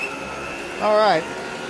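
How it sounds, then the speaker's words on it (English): An Electrolux canister vacuum's power nozzle idles with a steady, thin motor whine and a low hum, with a short voice-like burst in the middle. "so you hear the power nozzle is idle"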